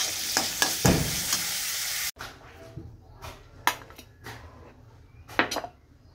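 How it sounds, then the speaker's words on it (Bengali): Vegetables frying in a pan for a Maggi chow mein dish, with a loud steady sizzle for the first two seconds, then quieter frying broken by sharp spatula scrapes and stirring clanks. "এখানে সবজিগুলো ভাজা হচ্ছে।"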